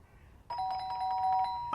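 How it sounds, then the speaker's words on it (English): A doorbell in the video game Fragments of Him chimes once with a clear, sustained electronic tone that rings out alone, with a brief second strike near the end. "The doorbell went again"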